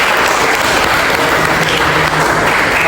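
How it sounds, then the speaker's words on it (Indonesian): A room full of people claps steadily and loudly for about three seconds, filling the space with dense, continuous applause at a university law lecture. "Berikan aplaus untuk Egos dulu."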